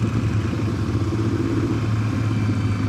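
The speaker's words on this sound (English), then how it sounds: "Oh, let's go, Harley brother." A Harley-Davidson motorcycle engine rumbles close by on the road, a steady low throbbing exhaust note with mechanical clatter, loud and continuous throughout with no talk over it.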